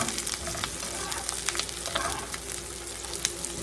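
Onions sizzle and crackle steadily while frying in a pan, a dense continuous hiss with small popping spatters, heard close and alone.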